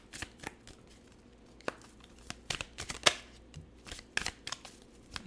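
Tarot and oracle cards being shuffled and handled, with a run of soft papery riffles and sharper flicks and snaps close by, irregular and fairly quiet throughout, no talking.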